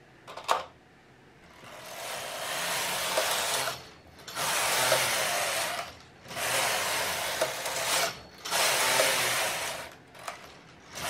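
A knitting machine running rows of waste yarn, the carriage rasping and ratcheting in long, loud passes of about two seconds each, separated by short pauses as it changes direction, close by.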